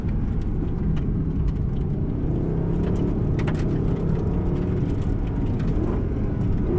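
Mercedes SLS AMG Black Series engine accelerating hard, a deep, continuous roar heard from inside the car, steady and loud throughout, with no talk over it.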